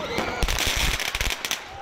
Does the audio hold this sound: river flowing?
no